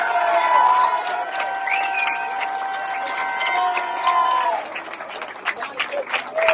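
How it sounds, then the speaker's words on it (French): Crowd applause and cheering for cyclist Pierre Thierry at a Tour de l'Avenir ceremony in La Gacilly, a dense steady roar of clapping mixed with a voice over a PA, with scattered loud claps near the end. "il va demander vos applaudissements plus forts que ça, s'il vous plaît"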